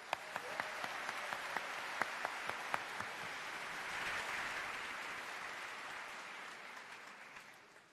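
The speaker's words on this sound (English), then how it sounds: "Please join me in a round of applause for the family and friends joining us today." Audience applause fills a dental school white coat ceremony hall, a sustained, fairly distant wash of many hands clapping that swells slightly and then fades toward the end.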